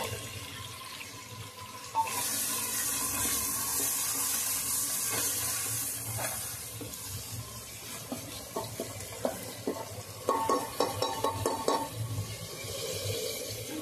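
Onion frying in oil inside a pressure cooker for vegetable pulao, a loud continuous sizzling hiss that steps up after a few seconds, followed by a burst of stirring scrapes and knocks near the end, without speech.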